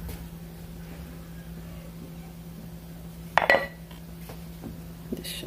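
A lid set down on a frying pan with an omelette cooking, a single short metallic clank near the middle over a low steady hum, otherwise quiet.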